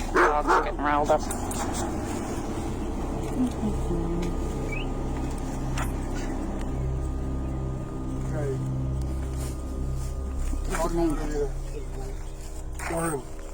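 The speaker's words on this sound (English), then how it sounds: "Dogs are getting riled up." Dogs barking and yipping at a distance, bursts at the start and near the end, over a low engine-like drone with people talking.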